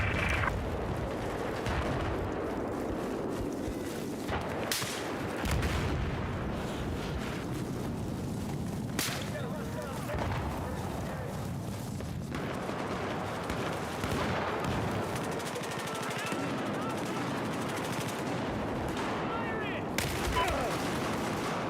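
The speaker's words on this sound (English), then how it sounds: "I have eyes on a hostile machine gunner east of your location." Machine gun bursts and gunfire from a first-person shooter game, dense and continuous with sharp shot transients and rumbling battle noise throughout.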